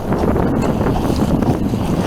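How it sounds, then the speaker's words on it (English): Small sailing boat under way off the coast between Hamble and Sandbanks, with loud steady wind buffeting the microphone over rushing water, no pauses. "That's it. Sailing along quite nicely."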